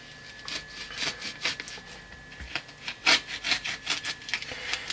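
A knife slicing through salted mojarra fish being cut into fillets for pejerrey bait, a series of rasping strokes in an uneven rhythm, close and clear with no talk.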